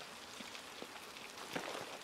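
Steady rain patters on surfaces in the dark game Below, a soft continuous hiss with scattered individual drops, faint and unbroken, with no voices over it.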